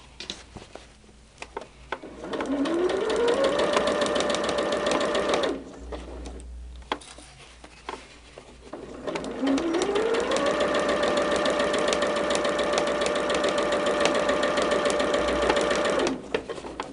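A sewing machine stitching quilt blocks together in two long, steady runs, each revving up to a fast, even hum of needle strokes and stopping abruptly, with a short pause between them.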